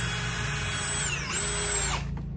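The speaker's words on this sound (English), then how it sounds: "we grabbed the drill, and we're going to start putting this top piece on. Just a few screws will do it." A power drill driving screws into a top piece of an RC crawler course, a close, loud whine that dips briefly as the screw seats, then resumes before stopping abruptly.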